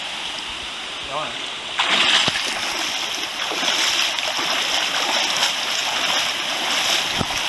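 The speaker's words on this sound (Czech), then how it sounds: "A zde je před námi opět další vodopádek." A small waterfall on a forest creek, a continuous rushing splash of water close by, with brief speech over it.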